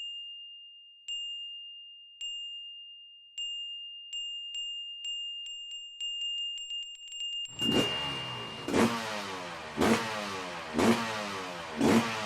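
A quick series of electronic chimes ticks faster and faster, then a Kawasaki two-stroke dirt bike engine fires up loud and close with several sharp, rhythmic revving blips, and no one speaks.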